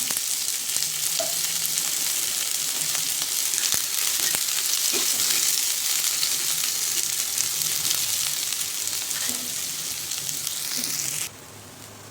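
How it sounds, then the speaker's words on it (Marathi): Onion fries in hot oil with a steady, dense sizzle and crackle. It is close and fairly loud and keeps going at an even level until it drops off sharply near the end. "कांदा लवकर भाजला जातो, तळला पाहिजे असं छान"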